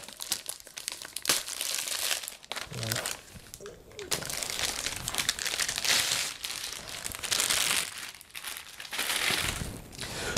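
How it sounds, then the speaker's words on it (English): A Dell G5 gaming laptop is pulled out of its plastic wrapping: loud, close crinkling and rustling of plastic in repeated bursts throughout, with no speech over it. "we'll go ahead and open it up here so we can see what it looks like out of the plastic"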